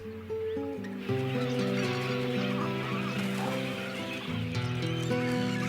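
Water birds gathered at newly formed lakes in the Australian desert honk in a dense, overlapping chorus of goose-like calls, fairly close and continuous throughout, with no talking.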